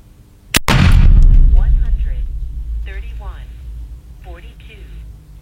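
A pump-action 12-gauge shotgun fires a single rubber-shot round with a sharp, loud blast and a lingering boom, followed by people talking.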